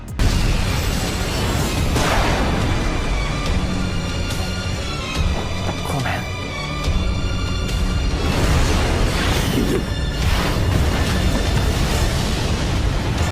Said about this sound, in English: an explosion so massive that it creates a mushroom cloud ensues